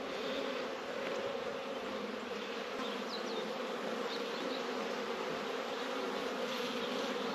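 Honey bees hum around an open hive during the season's first hive check, a dense, steady buzz that goes on throughout, with a few brief higher whines of single bees passing close and no talk.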